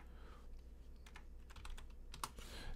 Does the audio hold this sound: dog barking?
no